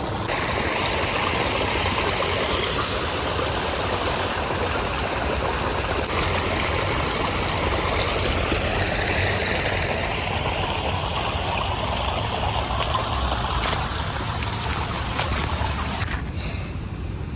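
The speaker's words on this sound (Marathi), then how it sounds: "ह्याचा आवाज एवढा खळखळ खळखळ खळखळ येतोय" Water gurgles and rushes steadily into a farm pond after the first rains, a loud continuous babbling flow close by with no talking, lasting throughout.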